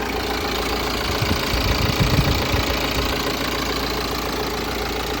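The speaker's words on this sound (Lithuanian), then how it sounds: "Variklis dirba labai gražiai, tiek šiltas, tiek šaltas." A 2015 BMW X3 F25 with a 2.0-litre diesel idles steadily nearby, a continuous even rumble with faint diesel clatter and a slight swell partway through.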